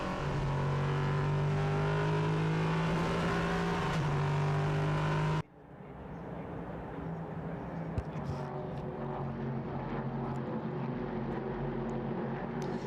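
Prototype race cars circling the Hockenheimring circuit during a Prototype Cup Germany race, their engines making a loud steady roar that falls away sharply partway through, leaving a fainter continuing drone of engines.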